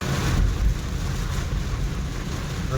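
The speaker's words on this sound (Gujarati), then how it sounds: "રસ્તામાં ધોધમાર વરસાદ આવે છે અત્યારે કાંઈ દેખાતું નથી ને એટલો વરસાદ ચાલુ છે" Heavy rain pours on a road, a loud, dense, continuous roar and rush of water that fills the whole stretch with no pauses or voices.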